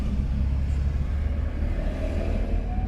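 Car driving steadily during a driving lesson, a continuous low engine rumble and road noise close up with no pauses, without speech.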